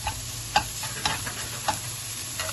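Garlic and grated ginger frying together in a pan with onion over high heat: a continuous close sizzle broken by light clicks and scrapes of a utensil stirring, with no voices.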